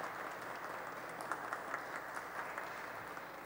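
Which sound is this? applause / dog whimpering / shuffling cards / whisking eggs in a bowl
applause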